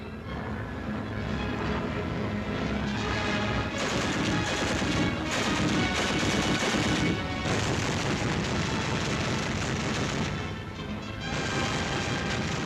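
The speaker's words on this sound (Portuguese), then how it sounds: "Os aviadores alemães defendem-se com as armas de bordo." Onboard machine guns of a German bomber firing at attacking Soviet fighters, a loud, continuous clatter of gunfire and booms mixed with engine roar in wartime newsreel sound, with heavier bursts in the middle.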